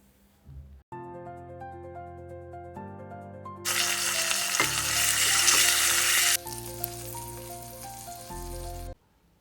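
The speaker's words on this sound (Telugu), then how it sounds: "ఆవాలు, జీలకర్ర, ఇంగువ, ఎండుమిరపకాయలు, కరివేపాకుతో పోపు వేసుకోవాలి." A tempering of mustard seeds, cumin, asafoetida, dried chillies and curry leaves hits hot oil for buttermilk curry, bursting into a loud, bright sizzle mid-clip that rides over steady melodic background music.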